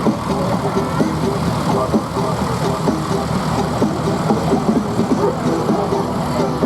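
A tractor engine runs steadily at a country show, a loud idling rumble throughout with crowd noise and voices around it.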